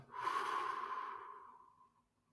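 A single long exhale during a breathing exercise, breathy and airy, swelling quickly then fading gradually over about two seconds, close and alone.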